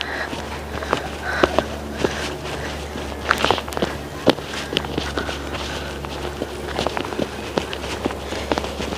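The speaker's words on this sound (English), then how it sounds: "Can you hear the voice of our footsteps?" Footsteps walking through the jungle of a botanical garden, a steady run of crunching steps close by with a constant low hum underneath and no speech.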